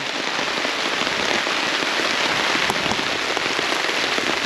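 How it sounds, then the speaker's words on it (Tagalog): Steady, dense rain pounding a tent at a campsite, a constant loud hiss with scattered drop impacts throughout, no voices. "lumalakas na yung ulan"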